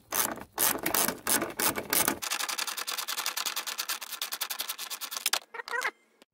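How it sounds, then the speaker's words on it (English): A ratchet with a 10mm socket works on the washer fluid sensor of a C5 Corvette, giving close, rapid clicking bursts, first several short runs, then a long fast stretch of ratcheting that stops, followed by a few final clicks. "I'm using a 10mm socket on this."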